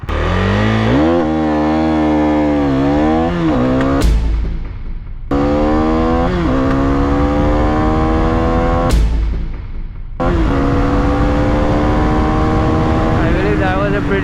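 A KTM Duke 390 motorcycle accelerates hard through the gears, its engine note climbing and clearly cutting out twice during upshifts, loud and close throughout the run.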